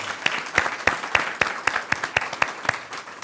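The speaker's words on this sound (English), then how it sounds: "let's give Vilma another round of applause" An audience at a Montgomery College event claps for Vilma: a fairly light round of applause with distinct, rhythmic claps from a modest crowd, steady from start to finish.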